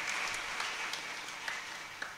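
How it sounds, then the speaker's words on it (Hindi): An audience at a Satyanarayan vrat katha religious gathering claps continuously, a soft, distant wash of many hands with a few sharper claps poking through. "एक बार अपने लिए जोरदार तालियां बजाओ सभी।"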